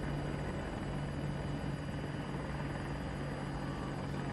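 Apache helicopter in the video game Battlefield 2042 drones continuously with a dense rotor and engine roar, steady and loud with no gaps.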